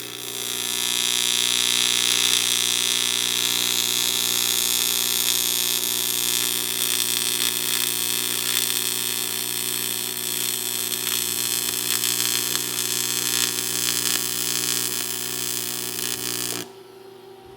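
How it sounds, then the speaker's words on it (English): Welding on metal pieces for a Dodge 1500 air intake produces a loud, steady buzzing hiss with a constant electrical hum underneath, running unbroken for about sixteen seconds before cutting off abruptly. "We're gonna weld these together, and then we'll start cutting and splicing in other pieces to get the rest of this thing made."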